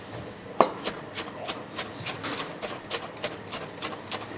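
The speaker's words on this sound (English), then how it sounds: "that is the next level of chopping up a salad" A giant machete chops salad on a board at a food stall in Old Jerusalem, fast rhythmic knocks repeating several times a second, fairly close, with a sharper strike at the start.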